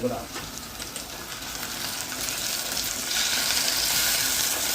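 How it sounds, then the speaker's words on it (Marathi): Chopped tomato hits hot oil already crackling with curry leaves, giving a continuous loud sizzle that swells toward the end, with no talk. "इथे एक टोमॅटो मी चिरून घेतलेला आहे तोही तेलामध्ये घालून घेते"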